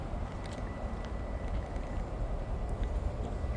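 CSX freight train X452 led by Tier 4 GEVO locomotive 3282 passing northbound at about 60 mph, a steady loud low rumble throughout with some higher rattling, no horn evident.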